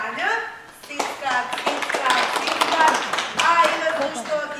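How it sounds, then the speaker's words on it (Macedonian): An audience claps for students at a school event, a dense patter of applause close by, mixed with voices speaking over it. "Прво наследен аплауз повторувам за Елена, Марија, Венко и Сања."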